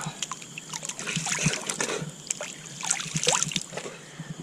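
Creek water trickling and splashing at night while someone showers in it outdoors on a solo overnight hike, a continuous close burbling with small splatters.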